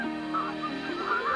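Wild geese honk in a loose, overlapping chorus, several birds calling at once in repeated nasal bursts that carry steadily without pause.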